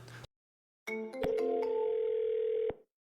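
A loud, steady telephone dial tone heard through a headset, starting after a brief burst and a few clicks, then holding a flat continuous tone for about a second and a half before cutting off.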